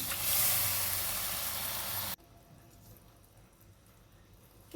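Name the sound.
poppy seed paste added to hot oil, sizzling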